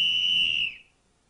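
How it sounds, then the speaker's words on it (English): An ice hockey referee's whistle gives one loud, shrill blast lasting under a second, then cuts off sharply into quiet. "On the ice, when the referee blew his whistle,"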